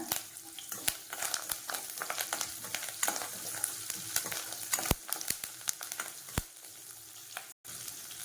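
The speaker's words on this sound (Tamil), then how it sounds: "இதையும் சேர்த்து லைட்டாக வதக்கிக்கலாம் அடுத்து இதில் கொஞ்சமாக கருவேப்பிலை சேர்த்துக்கிறேன்" Curry leaves sautéing in a hot pan while making coconut rasam: a steady crackling sizzle with frequent sharp pops and spatters, close and fairly loud, with no voices.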